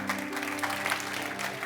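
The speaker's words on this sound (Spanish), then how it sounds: "Dale un aplauso fuerte al Señor." A church congregation claps during a Spanish-language worship service, a short burst of moderate applause over a sustained low musical hum.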